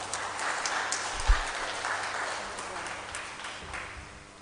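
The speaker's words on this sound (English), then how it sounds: "Please let us give Dr. Ayam another round of applause for this exhaustive presentation" Audience applause after an exhaustive presentation at a policy dialogue, a steady dense wash of clapping from a crowd that holds evenly and slowly tapers off toward the end.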